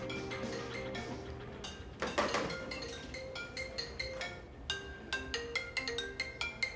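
A mobile phone left behind plays its ringtone, a repeating melody of bright electronic tones with a rhythmic ticking pattern, moderately quiet, with no talking.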